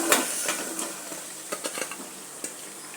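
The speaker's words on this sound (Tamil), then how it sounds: "இப்போ இந்த நெல்லிக்காயை தூக்கி இதில் போட்டுறணும்" Gooseberries dropped into a pan of tamarind and oil: soft sizzling with a cluster of light clattering clicks and scrapes as they land and are moved, close and fairly quiet, no talk.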